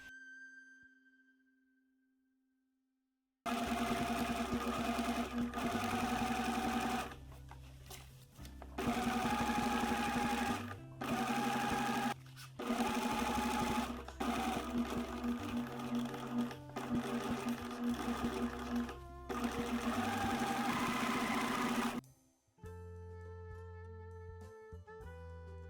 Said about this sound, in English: Sew at 1/4 seam allowance and press the seams to the back.